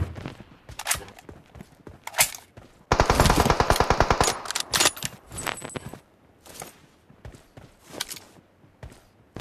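Rapid bursts of MK rifle fire in a PUBG Mobile squad match during the frost event, a dense sustained volley after scattered single shots and clinks, fairly close and loud.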